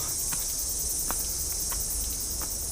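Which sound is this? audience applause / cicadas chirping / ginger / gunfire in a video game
cicadas chirping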